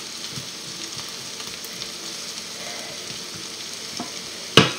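Potatoes fry steadily in a hot pan with a constant soft sizzle and faint crackles, ending in a brief louder clatter at the close.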